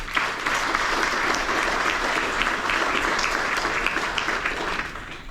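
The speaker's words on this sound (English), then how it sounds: "If you give them a round of applause" Members of a club give their board of directors a round of applause, a full, even wash of many hands clapping that holds steady before easing slightly at the close.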